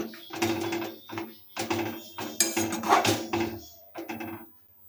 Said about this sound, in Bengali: তাই এটাকে ভালোভাবে একটু হাতার সাহায্যে নেড়ে নেব